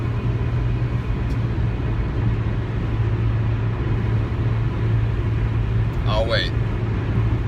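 Steady low interior road rumble from a car being driven to a ballet class, a constant engine and tyre drone filling the cabin, with a brief voice speaking near the end.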